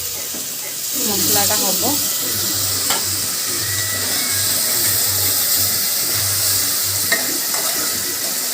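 Water is added to a pan of sizzling mutton masala with coriander powder and mutton masala, and a loud, continuous hiss and splash rises close by. A person talks briefly over it.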